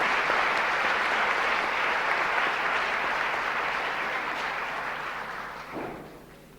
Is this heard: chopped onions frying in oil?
no